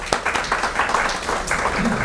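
An audience applauds a performer at a Punjabi classical music program, a steady wash of clapping across the full two seconds, mixed with some voices.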